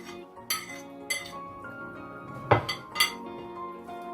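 Broccoli, cauliflower and runner beans tipped into a cooking pot for a prawn curry, giving a few sharp clinks and clatters against the pot at intervals over a faint background hum, with no talking.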